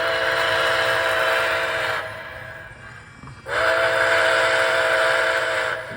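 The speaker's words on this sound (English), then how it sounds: "Try the whistle again." Two long, loud whistle blasts come from an MTH Nickel Plate Road model steam engine, each a steady multi-note chime of about two seconds, separated by a short quiet gap with faint running hum underneath.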